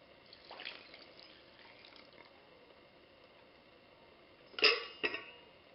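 Water is poured into mixed dry ingredients for homemade play dough, a faint trickle at first, then two short louder splashes near the end.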